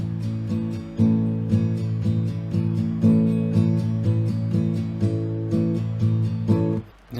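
Acoustic guitar strummed in a brisk down-up rhythm for a song, with even, continuous chords and a few accented downstrokes, close and unaccompanied before a brief dip near the end.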